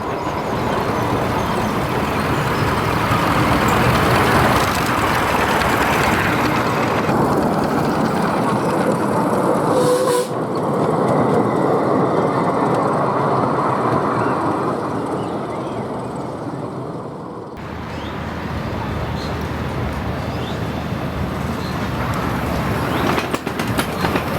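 A train rumbles loudly along the track for a long stretch, a steady roar with rhythmic clatter that briefly dips before building again.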